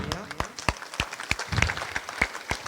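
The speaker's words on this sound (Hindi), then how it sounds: "जोरदार तालियां।" Applause at an eye camp event in Berasia, a modest group clapping with distinct, uneven hand claps rather than a dense roar, moderately near and lasting a few seconds.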